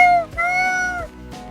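A cat at home lets out two drawn-out, close meows, the first fading at the end, then a short pause before the second, longer cry and a faint third start.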